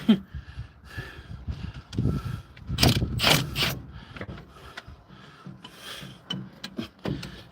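Tightening a bolt on the rear axle of a 1976 Ford F100 during a Posi third member install: close ratcheting and metallic clicks with rubbing and clunks, irregular and moderately loud, no talking.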